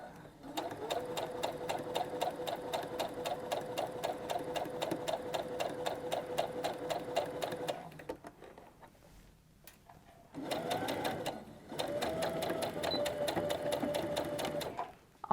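A sewing machine stitches a curved seam on a cloth grocery tote, running in a long steady burst, pausing briefly, then starting again, close and alone.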